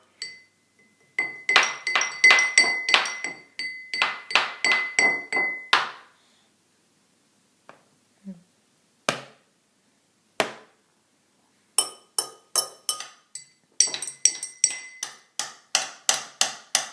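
A baby bangs a spoon on glass dishes in rapid bursts of bright clinks and taps, loud and close, with short pauses and a few isolated strikes between the runs.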